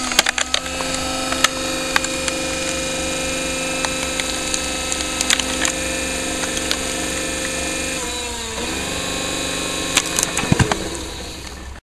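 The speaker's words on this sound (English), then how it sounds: "Notice how the ram slows down on the initial load and then speeds up when the log splits." A home-built, solar-powered electric log splitter forces its ram through an 8-inch diameter log, giving a steady motor and hydraulic drone broken by sharp wood cracks and splintering bursts, with a louder snap near the end.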